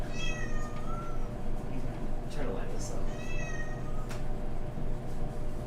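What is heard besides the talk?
cat meowing at the door wanting to go outside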